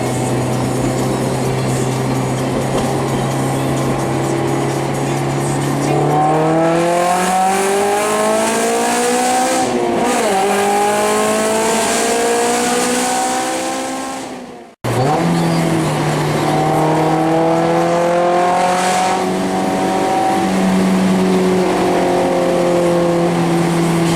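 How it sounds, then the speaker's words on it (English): Honda S2000 exhaust fitted with an Invidia Q300 catback and test pipe: a steady idle rises into loud, climbing revs, drops briefly, then the engine winds up again in a sustained rasp, close and alone. "let's just hear the exhaust of the NVIDIA Q300 catback and the test pipe"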